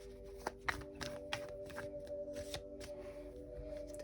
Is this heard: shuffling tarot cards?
yes